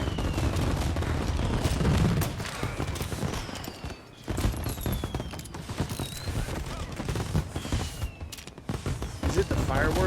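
Continuous crackling bursts of fireworks in Mafia: Definitive Edition fill the game soundscape, dense rapid pops and bangs that sound like heavy gunfire, with a short lull midway before they resume, loud and sustained.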